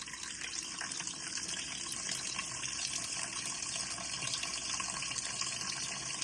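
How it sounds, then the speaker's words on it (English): Tap water gushes steadily into a bowl holding raw oxtail for rinsing, a continuous close, fairly loud splashing stream with no talk over it. "Then I'm gonna add in some more water."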